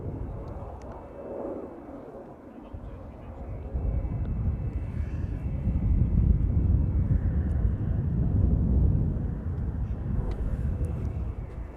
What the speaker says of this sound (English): BizJet taking off from runway 22 as well